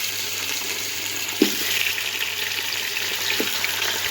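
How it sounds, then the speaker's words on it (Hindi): Chicken for charsi chicken karahi fries in half a cup of oil in a karahi pan, giving a continuous close sizzle with a low hum beneath and a couple of brief clanks from the pan. "पान में ऑयल ऐड कर लें, हाफ कप ऑयल ऐड करना है हमने। इसके साथ ही इसमें चिकन ऐड कर देंगे।"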